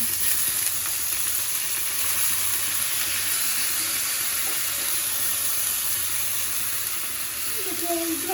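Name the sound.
rice frying in a pan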